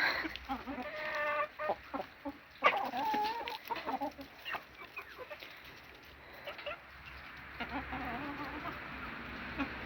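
Chickens, including a heavily molting hen, cluck in short, irregular bursts nearby, with some soft rustling in between and no talking.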